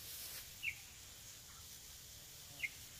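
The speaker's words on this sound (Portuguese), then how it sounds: "Olha como é que os passarinhos estão comendo." Small birds feeding in a mango tree on a rural farm give two brief, thin chirps about two seconds apart, distant and faint over quiet outdoor ambience.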